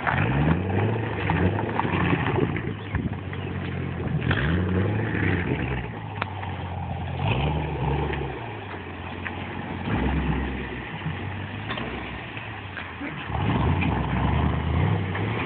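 A Chevrolet Camaro SS V8 fitted with a K&N intake and Borla exhaust rumbles steadily at low revs, a deep continuous drone swelling slightly with throttle while driving, close and loud throughout.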